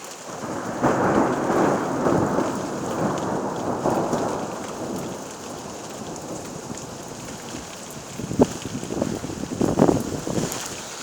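Violent thunderstorm at Carpentras in Vaucluse: steady heavy rain with a long rolling rumble of thunder, then sharper nearby cracks and crashes toward the end, loud and close.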